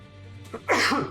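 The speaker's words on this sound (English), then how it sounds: "Excuse me, I had to sneeze." A single close, sharp sneeze with a brief intake of breath before it, heard alone over faint background hum.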